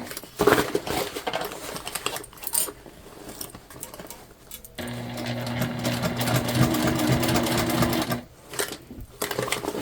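Sewing machine stitching a seam on a leopard-print tote bag, a steady mechanical whir running for several seconds in the middle with short bursts of stitching and handling around it, close and fairly quiet.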